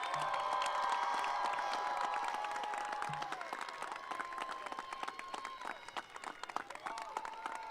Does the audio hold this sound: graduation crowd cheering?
yes